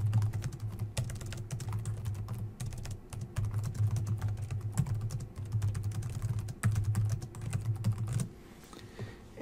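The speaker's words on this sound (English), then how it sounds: "you can do that by simply typing the content in there." Computer keyboard typing while text is entered into an online course page: steady bursts of quick, close keystrokes with brief pauses, ending in a quieter stretch.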